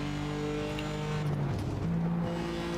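Simulated BMW race cars in iRacing at Road America, engines droning steadily at high revs with shifting pitch as two cars run close through a fast kink and onto a straight, no voices.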